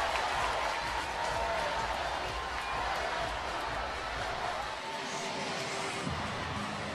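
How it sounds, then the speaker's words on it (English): A gymnastics arena crowd at an NCAA meet cheering and applauding, a continuous broad roar of clapping and voices holding steady, distant and full-bodied. "Listen to the crowd."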